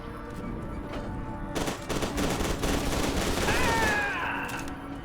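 Explosions and gunfire erupt in F.E.A.R. 2: Project Origin, a dense, loud barrage of blasts and rattling shots that thickens after the first second and rolls on continuously, with a few whistling tones near the end.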